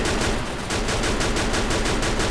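Dense, continuous gunfire in the Free Fire shooter game, rapid bursts of automatic shots rattling without pause throughout, loud and close.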